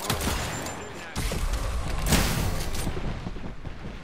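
Gunfire in the video game Apex Legends, a dense barrage of booming shots and impacts layered continuously through the whole stretch, loud and close.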